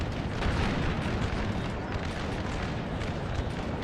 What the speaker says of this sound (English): I'm getting shot at by cannon.